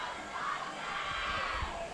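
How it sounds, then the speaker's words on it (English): A crowd of girls screams and cheers for their team at an under-16 water polo match, a steady wash of distant shouting that fills the whole stretch. "You can hear the Chisi girls screaming for their team"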